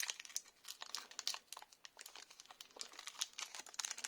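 A Pokémon booster pack's foil wrapper is torn and crinkled open close by, in a busy run of sharp rustling crackles and tearing bursts.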